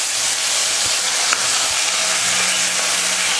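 Mustard seeds splutter in hot oil for a South Indian vegetable dish, a dense, continuous crackling sizzle with scattered small pops and a couple of faint utensil clicks.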